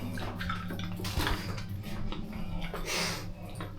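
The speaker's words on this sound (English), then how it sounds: "Shower." A shower runs in a hotel bathroom, a steady broadband hiss of falling water that fills the whole clip, loud and close.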